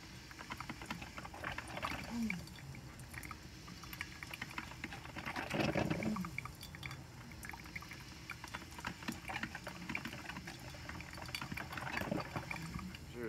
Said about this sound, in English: I'm making coffee this morning and I hear this sound and I'm not sure where it's coming from.